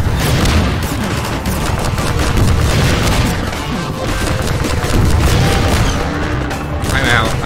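In the video game Transmissions: Element 120, RPG rockets fire and explode amid dense combat, with loud repeated booms and bursts of gunfire crowding the mix, while a voice talks over the noise now and then.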